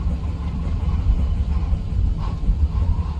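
A machine spins fast in a storm, giving a loud, steady low rumble with a throbbing engine-like drone that never lets up.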